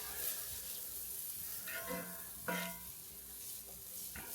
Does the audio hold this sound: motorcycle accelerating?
no